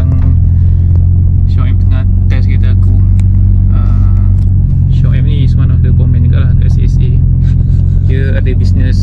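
A converted Mitsubishi Lancer Evolution X with a 4B11T engine, two-wheel drive and manual gearbox rumbles steadily during a test drive, a loud constant low engine drone heard from inside, with voices talking over it.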